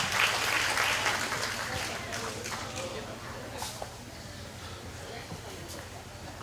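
Applause rises for kids leaving a hog show ring at a county fair, a moderate crowd clapping that starts fairly strong and thins out over several seconds, heard at some distance with a low hum underneath.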